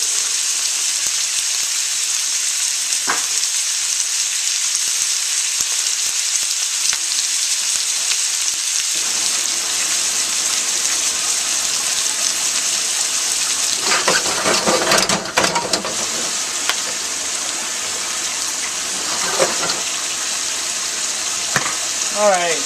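Food frying in a pan in a home kitchen, a steady close sizzle running throughout with occasional louder crackles and stirring scrapes.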